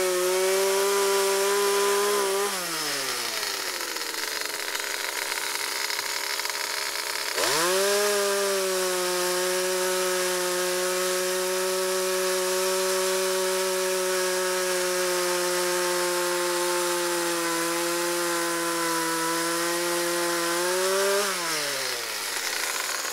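A small chainsaw from the early 1980s revs and drones steadily through cuts in backyard tree branches, dropping to idle twice, with a loud high whine close by and no talking.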